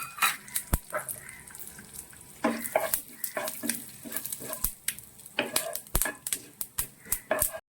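Thick jaggery syrup poured into a pan of tapioca flour halwa with sesame seeds, giving soft wet sizzling and stirring clatter in irregular bursts, close and fairly quiet, with no talking.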